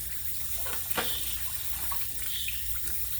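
Tap water runs and splashes steadily while cotton filter media from a fish tank filter is rinsed, a close, continuous gush with faint squelching, no voices.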